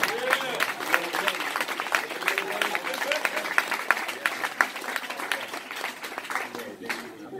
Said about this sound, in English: Clap your hands like you're running.